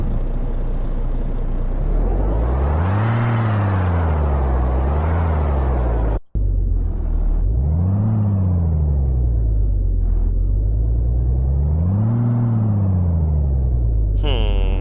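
A Peterbilt 379 truck engine in a video game revs up and down repeatedly in smooth swelling waves, a deep droning roar with a brief cut-out partway through.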